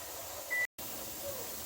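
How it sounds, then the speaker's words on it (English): A steady broadband hiss of steam venting from a pressure canner runs throughout, briefly cut by a moment of silence before resuming just as loud. "Once you achieve a steady stream of steam coming out of the vent"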